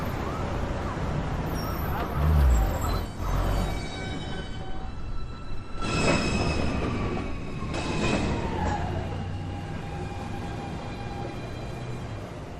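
A Manhattan-bound NYC Subway 1 train at 207th Street station rumbles loudly up close, with wheel squeal and rail clatter, and bursts of louder rolling noise around six and eight seconds.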